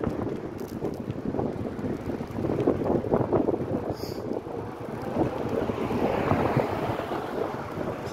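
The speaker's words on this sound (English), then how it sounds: "I'm still hitting a 2-mile-per-hour headwind." A steady headwind buffets the microphone during a beach bike ride on Sanibel Island, Florida, giving a continuous rumbling gust noise with surf-like washes and no speech.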